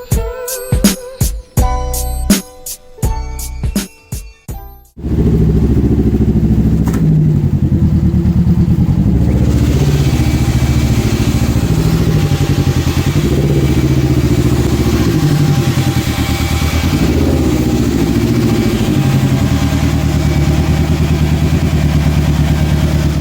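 A Can-Am Ryker 900 three-wheeled motorcycle engine idles loud and close with a steady rumble, preceded by a few seconds of sharp clattering clicks before the engine noise takes over.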